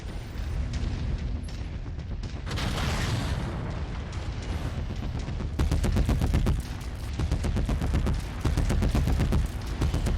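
Long-range missile salvos and heavy weapon fire in the mech combat game MechWarrior 5, a dense rumbling barrage of booms and rapid impacts that swells and repeats in bursts with no voices.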